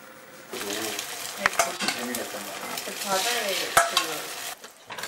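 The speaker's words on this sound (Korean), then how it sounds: "지글지글 맛있는 냄새로 가득 찬 부엌을 보니 음식이 마무리가 되어가는 것 같은데요" Food sizzles and crackles steadily in a hot pan while a utensil stirs and scrapes, with a couple of sharper clinks and faint voices in the background.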